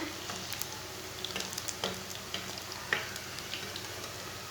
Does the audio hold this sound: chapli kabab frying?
yes